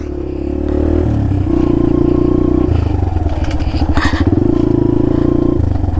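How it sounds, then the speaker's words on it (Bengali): A dirt bike engine revs loudly and close as it climbs a hilly trail, rising and falling with throttle changes and rattling clatter over rough ground. "এই হলো ডাট বাইকের মজা।"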